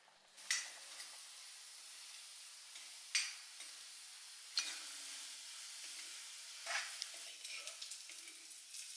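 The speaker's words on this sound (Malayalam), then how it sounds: "ഇനിയിപ്പോൾ ഇതാ വെളിച്ചെണ്ണയിൽ ചെറിയ ഉള്ളി വറവിടാം." Small onions frying in coconut oil, a soft continuous sizzle with several sharp bursts of spattering and stirring scrapes, close and fairly quiet.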